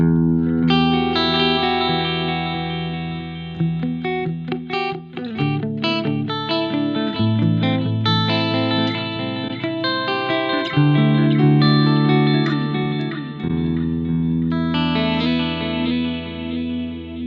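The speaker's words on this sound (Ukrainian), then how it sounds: "давайте трохи дамо простору, хорусу, ревру, ділею" Ibanez RG-421 electric guitar playing chords and melodic lines, drenched in chorus, reverb and delay, ringing notes washing together with a wide, shimmering tail, steady and prominent throughout with no talking.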